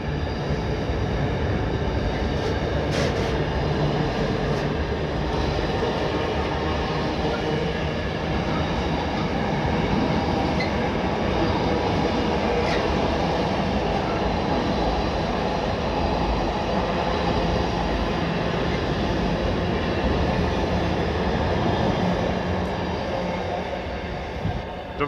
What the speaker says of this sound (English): Maybe the train from Watford.